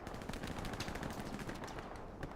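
Rapid, sustained machine-gun fire from a strafing run in the World War II shooter Hell Let Loose, a dense unbroken barrage of shots heard alone, loud and continuous throughout.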